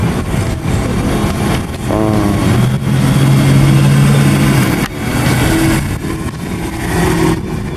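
A Lexus arriving at a Bakersfield cars and coffee meet, its engine loud and near, rising and falling through several revs, then settling briefly before revving again.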